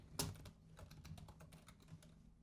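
Quick, light keystrokes on a computer keyboard while code is typed, a close and quiet run of clicks at an uneven pace, with one sharper stroke near the start.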